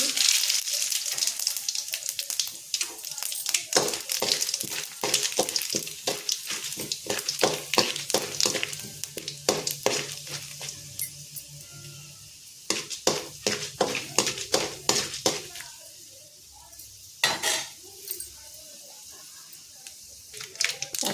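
Green chillies hitting hot oil for tempering, a loud crackling sizzle with sharp spattering pops in bursts, close by, while someone speaks over the cooking.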